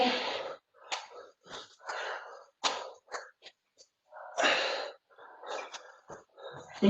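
Heavy, ragged breathing from people mid-set in a HIIT bootcamp workout with weights and overhead presses, loud and close in repeated bursts of huffing exhales and gasps with short pauses between.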